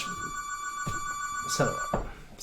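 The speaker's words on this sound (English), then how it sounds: "Answer the phone, Mark." A telephone rings with steady electronic tones running throughout, while brief bursts of voices and other sounds cut in over the ringing at home.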